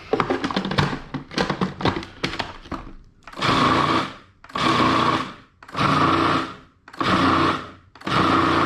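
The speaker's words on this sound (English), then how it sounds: "it's all going to get chopped up a little bit more inside the food processor anyway" A food processor grinds ingredients in repeated pulses, loud whirring bursts of about a second each separated by short pauses, preceded by rapid clattering rattles, close and without talk.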